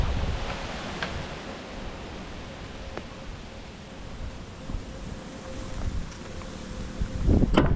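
Steady wind roars and buffets the microphone outdoors, with a low rumble underneath and a louder gust near the end.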